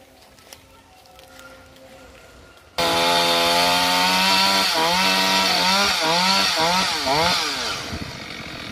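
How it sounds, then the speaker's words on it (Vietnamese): A chainsaw cutting a yellow-flowered acacia tree bursts into loud, close running after a quiet start, then revs up and down repeatedly as it bites into the wood. "đang tiếp tục để cưa cây tràm bông vàng"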